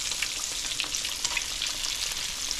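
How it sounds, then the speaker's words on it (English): Barracuda fillets frying in a pan as the fish is flipped, with a steady bright sizzle and crackle and small spatter pops, close and continuous without talking. "Let's go ahead and flip our fish, and then we'll mix those together."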